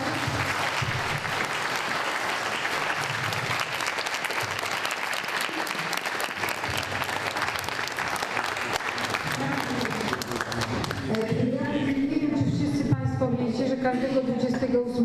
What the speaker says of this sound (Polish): no może zrobimy brawa bardzo serdecznie